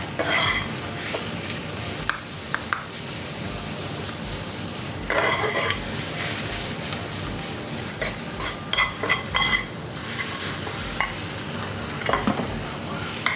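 Sausage meat browning in a pan sizzles loudly and steadily while a utensil stirs and scrapes, with intermittent metallic clinks against the pan.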